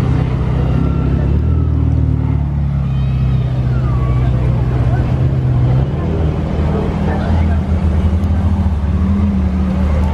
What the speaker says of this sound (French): Un autre convoi Ferrari. 812. Suivi d'une Portofino.